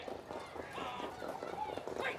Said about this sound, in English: As they come down to the wire, it is all SB Angel in Disguise.